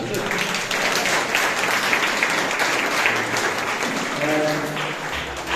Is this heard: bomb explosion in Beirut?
no